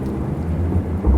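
Steady heavy rain roars close by while thunder rumbles low underneath, swelling louder at the very end, with no voices.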